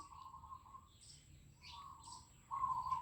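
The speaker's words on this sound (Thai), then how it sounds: "เสียงนกเสียงกาเสียงเขียดแต่ละมือ" Birds chirp outdoors, faint scattered whistled calls and short tweets at a distance, with a slightly louder call near the end and no talking.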